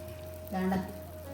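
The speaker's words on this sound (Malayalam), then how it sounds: "ഇനിയിപ്പോൾ ഞാൻ ഇതിൻ്റെ മേളിലേക്ക് കുറച്ച് നെയ്യൊക്കെ ഒന്ന് ഒഴിച്ചു കൊടുക്കാം" Ghee poured over a dosa on a hot griddle set to eighty, giving a brief close sizzle that swells for a moment over a steady low hum, alone with no talk.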